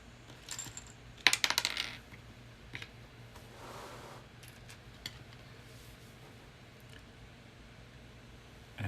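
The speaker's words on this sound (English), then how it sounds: "I bet you all can tell when I'm typing on my phone because I'm bad at it." Clicks and taps of typing on a phone touchscreen, a quick cluster of sharp taps near the start and a few scattered clicks later, faint against a quiet room.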